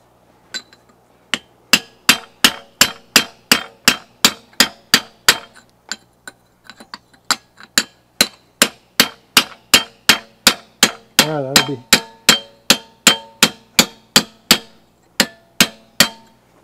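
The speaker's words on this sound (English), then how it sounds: "using the cold chisel" Hammer driving a cold chisel into springy, stiff steel for a survival knife, a long steady run of sharp ringing metallic strikes, close and loud, with a brief scraping rattle midway.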